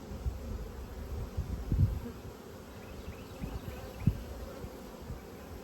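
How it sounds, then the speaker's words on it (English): Honey bees buzzing around an open hive during spring colony splits, a steady close hum with occasional soft knocks and rustles of frames, no talking. "I want to shake some bees in there"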